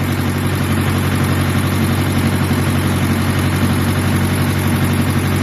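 A tractor with faulty hydraulics idles loudly and steadily up close, a constant low rumbling drone with no talk.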